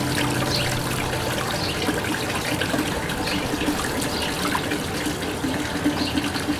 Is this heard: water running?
yes